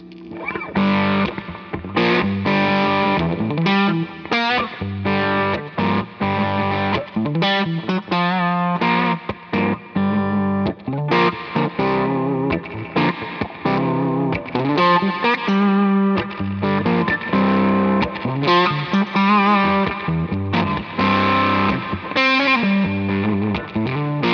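Electric guitar played through a J.Rockett overdrive pedal with built-in reverb, giving speaker-breakup grit on a riff, loud and continuous with dense chords and lead phrases, at a NAMM 2018 demo.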